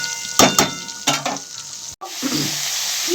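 Eggplant fries in hot mustard oil with a bright, continuous sizzle, punctuated by a few sharp scraping stirs in the pan near the start and no speech.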